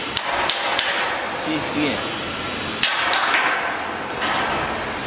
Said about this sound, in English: And the tool is just the hammer.